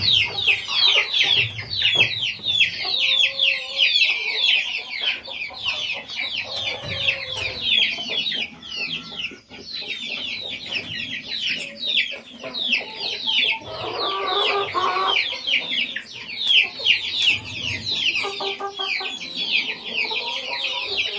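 A flock of chickens and young pullets being raised as future breeding hens cluck and chatter continuously in their pens, loud and close, with overlapping calls throughout.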